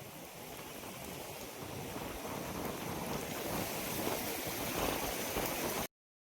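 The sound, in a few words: waterfall at Adai hills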